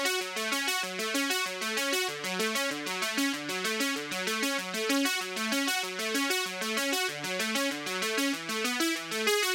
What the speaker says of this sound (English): Synthwave typically uses the ascending arpeggiator,